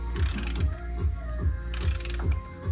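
A ratchet tightens a threaded bolt on a Nissan 350Z car part, rhythmic clicking strokes at about two per second with a low knocking thump each pass and occasional bright metallic rattles, close and loud with no speech.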